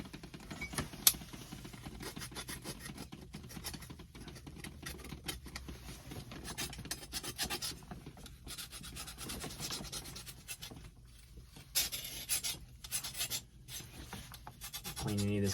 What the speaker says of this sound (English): Clean any of this corrosion up on here, so that way we get a nice clean edge, clean seal.